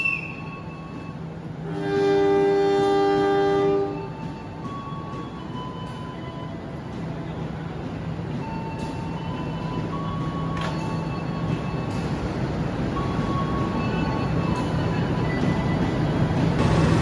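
A passenger train's long horn blares for a couple of seconds over steady station rumble at Lempuyangan station, Yogyakarta, followed by the continuous low roar of the train moving along the platform as it departs.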